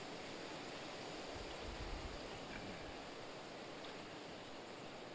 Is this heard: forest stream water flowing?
yes